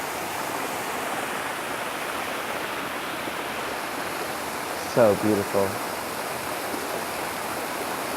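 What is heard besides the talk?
water fountains running in Dallas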